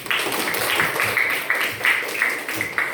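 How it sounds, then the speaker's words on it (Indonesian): Children in a classroom clap together for a classmate, a short burst of scattered hand claps at close range with some overlapping voices. "Tepuk tangan untuk Fadil."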